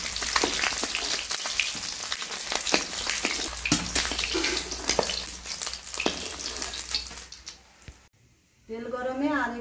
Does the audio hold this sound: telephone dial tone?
no